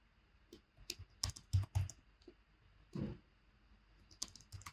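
Typing on a computer keyboard, irregular clusters of close, crisp key clicks and taps with short pauses between bursts, no talk.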